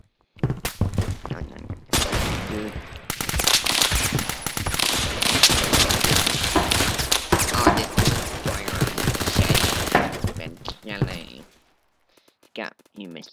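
Rapid bursts of gunfire rattle through a Roblox shooter game, dense and loud for several seconds with a few scattered shots trailing off, while a player talks over it.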